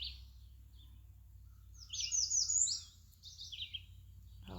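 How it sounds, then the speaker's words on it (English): Morning birds sing in a garden, a few clear chirping and warbling phrases rising over quiet low background hum, with no talking. "I just love the sound of the morning birds."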